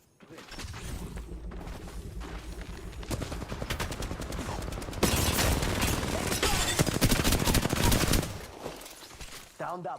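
Sustained video-game gunfire rattles in dense, close volleys, automatic bursts swelling louder midway before easing off, with talking mixed underneath.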